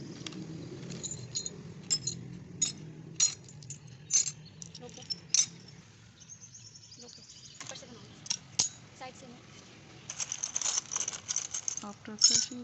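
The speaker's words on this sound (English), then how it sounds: "Today I'm crushing a glass." Glass being crushed by hand for a mixed-media resin art piece, heard as scattered sharp clinks, rattles and gritty crunches, close and fairly quiet, with a denser burst of crunching toward the end.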